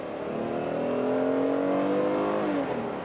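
Under hard throttle in sport mode, the 2017 Kia Cadenza SX-L's V6 revs up smoothly with a steady rising hum from inside the cabin, then eases off near the end.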